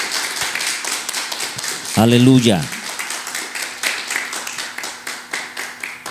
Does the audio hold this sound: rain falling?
no